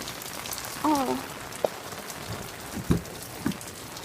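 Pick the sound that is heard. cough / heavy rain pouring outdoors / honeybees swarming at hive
heavy rain pouring outdoors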